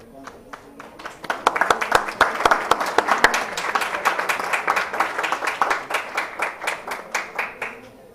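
An audience at a sustainability education conference's plenary session applauds a team. Sustained dense clapping runs throughout, fairly close and loud, with sharp individual claps standing out and a slight swell in the middle.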